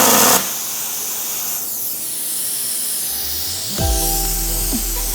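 YESWELDER Cut-55DS plasma cutter blowing compressed air, a loud, steady broadband hiss that continues throughout and shifts to a harsher tone with a low droning undertone near the end.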